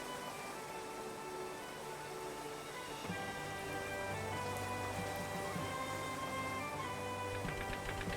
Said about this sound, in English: got a whole lot of spring rain here.